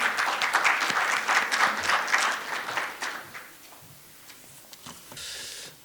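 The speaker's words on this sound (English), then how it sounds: "Please give him a warm round of applause." An audience at an opening ceremony of a journalists' congress gives a burst of clapping that holds steady, then thins out and fades over a few seconds.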